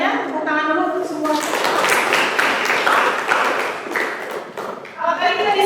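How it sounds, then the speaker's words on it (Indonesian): A class applauds presenting student groups in a burst of clapping that rises after a spoken moment, holds for a few seconds, then fades as a voice resumes talking. "Tepuk tangan dulu untuk semua."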